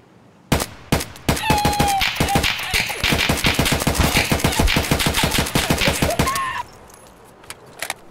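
Loud, rapid automatic gunfire in Escape from Tarkov, a long sustained burst of sharp shots at a fast, steady rhythm, close up. It stops abruptly, followed by a few scattered clicks and quieter shots.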